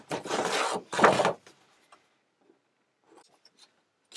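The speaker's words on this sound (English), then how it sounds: "I'm going to just use a pair of scissors." Scissors cutting paper for an art storage folder, two close bursts of crisp snipping and rustling, followed by faint scattered paper handling sounds in near silence.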